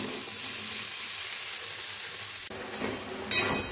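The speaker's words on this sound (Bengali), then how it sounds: "ঘুগনিটা কষানো চলছে" Ghugni with chopped tomato sizzles steadily in a pan while being stirred, a continuous close frying hiss with a brief clatter near the end.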